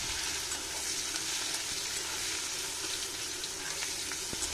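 Dried red chilies sizzling in hot oil as they temper for an egg and potato curry, a steady loud crackling fry that runs unbroken from start to finish, with no talk.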